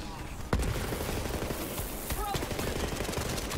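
Rapid gunfire from a Borderlands 3 boss fight, a sharp crack followed by a steady rattle of shots mixed into busy game sound, under talk.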